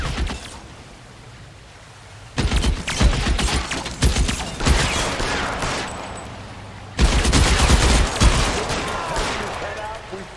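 Gunfire in the video game LA Noire comes in two loud, rapid bursts of repeated shots, with a quieter stretch before and between them.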